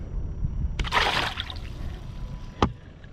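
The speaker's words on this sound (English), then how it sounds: "So let's get him back in the water and get him on his way." A released fish splashes back into the water beside a boat, one sharp slosh followed by a smaller splash, close and brief over soft lapping water.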